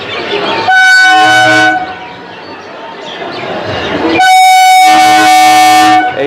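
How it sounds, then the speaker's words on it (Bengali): A train pulling into Eden Gardens station in Kolkata from Prinsep Ghat sounds two loud, sustained horn blasts over the rumble of its wheels, with a quieter rolling stretch between them. "প্রিন্সেপ ঘাট থেকে ইডেনে ঢুকছে ট্রেনটা"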